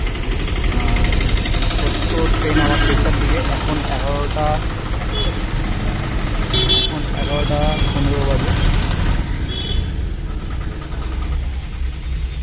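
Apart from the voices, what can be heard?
bus engine idling after boarding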